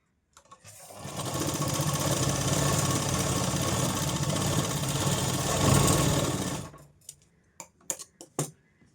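A sewing machine runs steadily for several seconds while stitching a katori blouse, a close continuous whirring drone, then stops and gives way to a few sharp clicks and taps.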